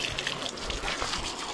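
Water gushes steadily from a hose at a riverside bathing spot beside a large rock, a continuous close splashing rush with no pauses.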